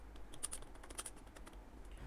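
Quick, light typing on a computer keyboard, a short run of soft clicking keystrokes close by and faint against a quiet background, with no talking.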